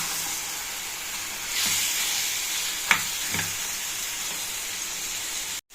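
Methi chicken with fenugreek leaves cooks in a pan, sending up a steady, bright hiss of frying, with a couple of soft stirring knocks partway through and a sudden cut at the end.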